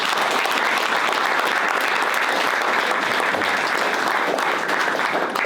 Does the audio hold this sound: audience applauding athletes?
yes